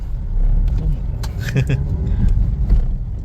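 An auto rickshaw engine drones steadily behind, close by, on a concrete road near a resort in Wayanad, with faint voices mixed into the continuous rumble.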